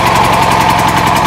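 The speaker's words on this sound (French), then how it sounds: "ça s'entend vite au niveau du bruit du moteur" A generator engine runs steadily just after starting, with a loud, close, even mechanical drone and a fast chugging pulse that continues without a break.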